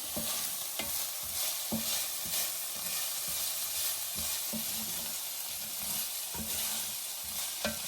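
Garlic and ginger cook in a pan with a steady, close sizzle, punctuated by regular scraping stirs at roughly one-second intervals.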